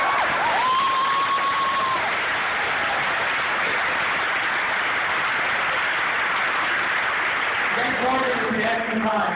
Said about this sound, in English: they have the gift of what is called super clapping